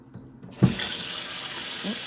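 Tap water runs steadily into a pet's empty water dish, starting abruptly with a splash and continuing as a close, even stream.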